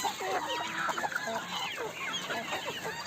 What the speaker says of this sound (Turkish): İran tavuğu var 7-8 tane çoğalttık